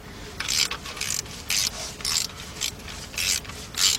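A ratchet clicks in repeated bursts while tight bolts are loosened during a partial rebuild of a 2003 Jeep Liberty Sport's 3.7 engine, with short ratcheting strokes spaced by brief pauses, close and alone.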